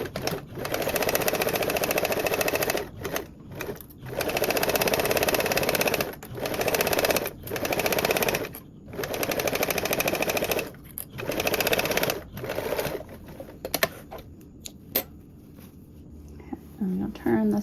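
A sewing machine stitches duffle bag fabric in rapid mechanical bursts, running in several runs separated by short pauses, loud and close, with a faint voice near the end.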